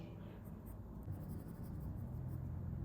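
Pencil or graphite strokes fill in dark hair on a portrait sketch, a soft continuous scratchy rubbing close to the paper, with quiet room tone.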